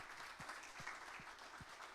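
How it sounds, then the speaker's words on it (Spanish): A church congregation applauds in offering to the King, a steady wash of clapping through the whole short stretch, with a few low thumps standing out. "Dele una ofrenda de palmas al Rey"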